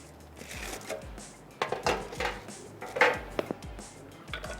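A slicer cutting baked qeema cheese puffs into pieces, giving a few scattered clinks and scraping knocks against a tray or dish over a low background hum.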